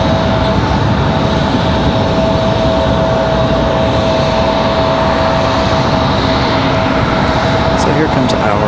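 A PSA Airlines regional jet moves at Raleigh-Durham International Airport, making a loud, continuous engine roar and rumble that fills the whole stretch. A voice talks over it.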